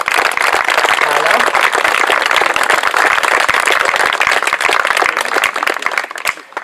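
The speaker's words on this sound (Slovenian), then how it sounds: "Podelimo še en aplavz našim umetnikom." Loud, dense audience applause for performing artists at a youth park event in Novo Mesto, sustained clapping from a crowd that continues strongly before tapering off at the very end.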